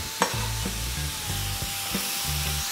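Brown mushrooms stir-frying in a pan, a steady loud sizzle with repeated scraping strokes of the stirring utensil in a regular rhythm, close up and with no voices.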